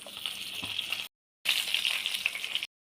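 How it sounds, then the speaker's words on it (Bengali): A fish head fries in mustard oil and ghee in a pan, giving a steady, bright hissing sizzle in two bursts split by short silent gaps, with no voices over it. "এখন আমরা কড়াইতে সর্ষের তেল আর ঘি একসঙ্গে দিয়ে মাছটা ভেজে নেব।"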